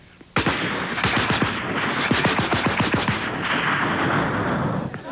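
A voice imitates rapid machine gun fire during a comic duck-hunting bit on a country music variety show, a fast loud burst of repeated bangs lasting several seconds, alone without talk.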